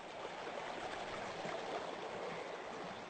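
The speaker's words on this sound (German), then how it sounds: "Geschirrspülen im eiskalten Bach." Icy mountain stream babbling steadily, a soft continuous rush and trickle of water heard alone at low level throughout.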